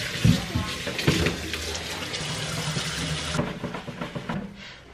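Tap water runs into a kitchen sink while an oily pot is scrubbed, a steady close splash broken by a few sharp clanks and bumps of the pot near the start.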